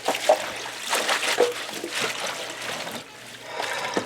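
Dirty water used for washing celery drains out of a kitchen sink fitted with a drain basket, a continuous close trickling and gurgling with small splashes throughout.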